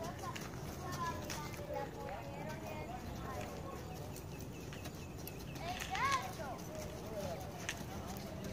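Hooves of a gelding horse being schooled for riding, a steady clip-clop at moderate distance, mixed with faint voices and outdoor background noise throughout.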